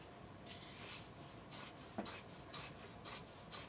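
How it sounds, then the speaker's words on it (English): Scissors cut up the side seam of a sweatshirt in a steady run of soft, close snips roughly every half second, with quiet rasping of the fabric between them. "we're going to take our scissors and go right up the side"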